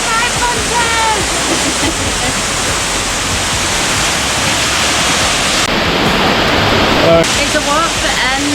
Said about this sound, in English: It's a walk that ends in 25 waterfalls, all coming to the same point.